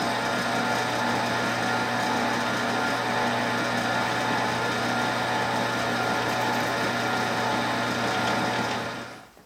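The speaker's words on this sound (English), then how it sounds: "I'm just going to drill a pilot hole right in the center of that hole that we just drilled." A drill bores a pilot hole into a wooden plane blank, a steady high whining motor hum held for several seconds before it winds down and stops at the end, close and without talk.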